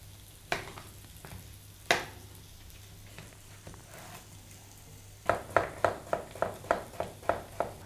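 Courgette slices sautéing in olive oil in a hot pan, a steady faint sizzle broken by occasional clinks, then a quick run of rhythmic scraping stirs near the end.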